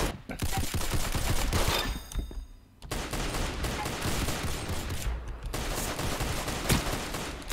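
Rapid gunfire from the video game Arsenal, dense bursts of shots crackling almost continuously, loud and close, with one brief lull before the firing resumes.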